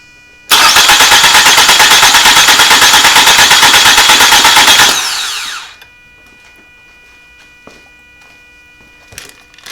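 A flood-damaged Toyota Camry engine cranks steadily for several seconds, loud and close with a rapid rhythmic churn, then winds down and stops, leaving quiet with faint clicks.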